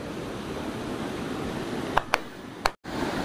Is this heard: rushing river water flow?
yes